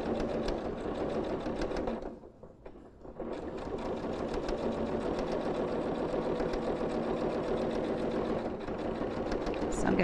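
Sewing machine stitching a boning channel through calico, running in a steady continuous whir that pauses briefly around the two-second mark while the needle is positioned and the fabric turned, then resumes at a constant close, loud pace.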